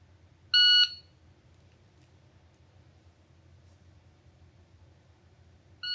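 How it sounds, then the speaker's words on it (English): A shooting shot timer emits a loud electronic beep of about a third of a second, followed by quiet background hum and a second beep starting right at the end. "I push a button and it gives me a beep"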